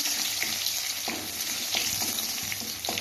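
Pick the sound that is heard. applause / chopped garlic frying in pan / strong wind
chopped garlic frying in pan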